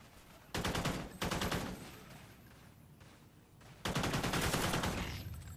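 Automatic gunfire in the shooter game Call of Duty: Ghosts, Cranked multiplayer mode, comes in three loud, dense bursts separated by quieter gaps.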